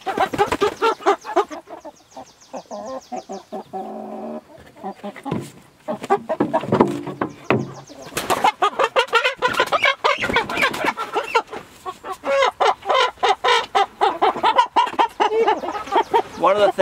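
Pasture-raised chickens housed alongside Cornish cross birds cluck and call loudly and repeatedly close by in a farm pen, with a person talking between the bursts.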